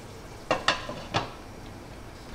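A lid goes onto a pot of chicken arroz caldo, giving three quick, close metallic clanks within about a second over a faint background hiss, with no talking.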